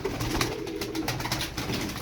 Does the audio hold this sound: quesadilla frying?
no